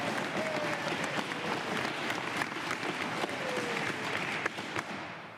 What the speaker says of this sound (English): I didn't see you clapping, Mr. Speaker.